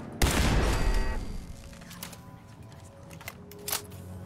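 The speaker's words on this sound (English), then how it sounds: "That was a pretty loud explosion." A loud explosion from the video game Fallout 4 bursts in near the start and rumbles for about a second before decaying into a low tail, followed by a few faint sharp game sounds.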